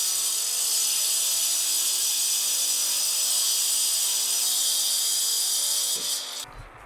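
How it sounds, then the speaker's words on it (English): Cutoff saw grinding through a bolt on a school bus seat, a loud continuous high-pitched whine that holds steady, then drops away as the cut finishes near the end. "We're gonna saw off this bolt."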